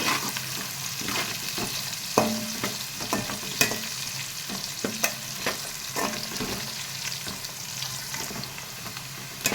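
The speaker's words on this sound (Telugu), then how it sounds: "ఇలా ఉల్లిపాయ ఎర్రగా వచ్చిందాక వేసుకోవాలండి" Onions fry in a pan for chicken biryani, a steady close sizzle broken by frequent scraping and clinking stirs of a utensil against the pan, with no talk.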